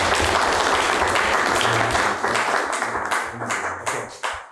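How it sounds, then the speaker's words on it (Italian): At a town council meeting in San Giorgio Canavese, the room applauds the newly named deputy mayor and councillor: sustained, dense clapping from a gathered crowd that thins out and tapers to a few scattered final claps. "Propongo un applauso."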